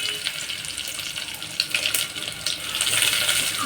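Mustard seeds crackle and pop in hot oil over low heat, a close, busy sizzle with sharp scattered spits rising toward the end.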